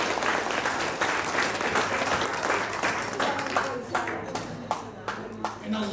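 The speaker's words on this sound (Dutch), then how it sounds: "Ik zou heel graag beginnen met een applaus voor al onze vrijwilligers." A room full of people at an annual association meeting claps for the volunteers, dense applause that thins out toward the end into scattered individual claps.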